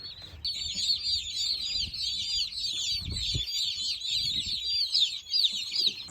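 A flock of young McMurray Hatchery meat chickens on an off-grid farm chatter in a dense, continuous stream of high peeps and clucks, close by with no talking.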